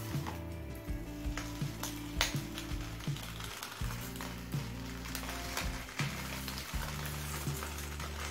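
Bighead carp on a piece of banana leaf in a wok over high flame gives off a faint, steady sizzle and light crackle under background music.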